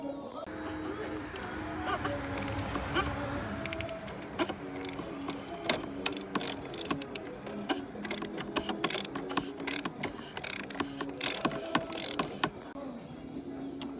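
Ratchet wrench with a 24 mm socket loosening the oil filter housing on a 2018 Jeep Grand Cherokee, giving repeated clicking ratchet strokes over a steady mechanical background hum, close and moderately loud.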